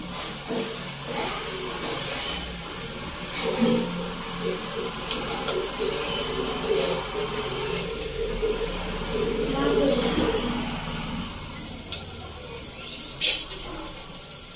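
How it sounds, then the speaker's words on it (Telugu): Water poured into a hot pan of fried onions for wheat rava upma, giving a steady steaming hiss and sizzle over about fifteen seconds, with faint voices in the background. "ఉల్లిపాయలు వేగాయి, వాటర్ పోస్తున్నాను"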